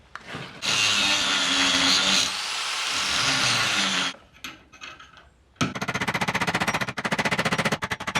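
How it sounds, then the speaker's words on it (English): A grinder cuts into a collar on a Series Land Rover during a full restoration, running in one loud harsh burst, easing off briefly, then returning in a second long, rattling stretch. "Straight to the grinder on this."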